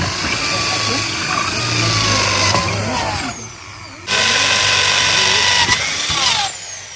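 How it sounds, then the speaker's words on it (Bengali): An electric drill bores holes in a machine being repaired, its steady whine running loud and close for several seconds with a brief dip partway through, while voices talk over it. "আট আঙুল ডিল করে সব ফুটো করে নেবো"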